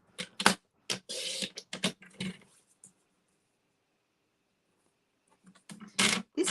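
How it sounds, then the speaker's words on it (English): Paper being cut into one-inch strips for a card design, with sharp slicing and scraping bursts in quick clusters, a quiet pause, then another few cuts close by. "So I'm going to cut 1-inch strips."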